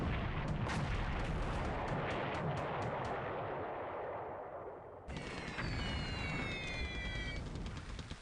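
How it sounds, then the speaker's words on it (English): Bombs strike a ship in the War in the Pacific game, a dense, loud rumble of blasts and booming fire that runs without a break, then a sharp cut to a new burst of explosions with high whistling tones. "3 more bomb hits to the Notori"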